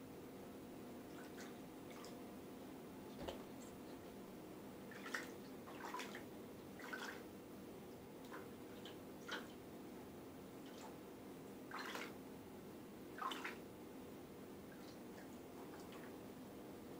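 Water splashes and drips in small bursts while a tortoise is bathed, soft, irregular sloshes and trickles scattered over a steady low background hum, with no speech.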